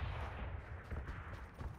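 Gunfire in the battle royale game PUBG on the Miramar map, a steady dense rumble of shots and booms that continues for the whole moment at a moderate, distant-sounding level.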